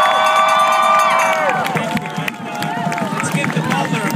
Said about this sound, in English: Let's give George the biggest round of applause for organizing all of this today